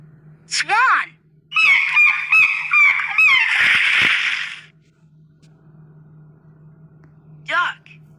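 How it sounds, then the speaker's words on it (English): A swan gives loud honking calls: a single call, then a rapid run of five or six nasal honks building into a harsh burst, and one more honk after a pause, over a low steady hum. "Swan."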